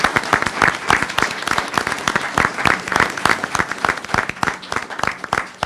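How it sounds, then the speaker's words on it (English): An audience at a board of education meeting gives the Raiders team a loud, sustained round of applause. Dense, rapid hand clapping continues from a nearby crowd with no talking. "If you would, please give the Raiders an applause."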